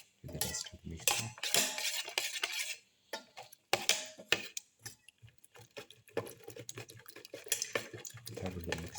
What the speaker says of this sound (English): Thoroughly mix in the black pepper.